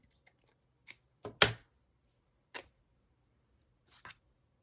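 Scissors cutting fabric for a craft project make a few short, sharp snips. They are quiet and spaced apart, with one louder cut in the middle.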